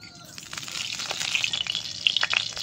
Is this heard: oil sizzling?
yes